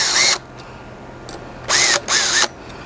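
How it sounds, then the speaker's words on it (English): A power drill drives screws into 2x4 lumber reinforcing a deck safety rail: a short whirring burst, then two more bursts close together, each rising and dropping in pitch as the motor loads up, loud and close. "let me drill it in there"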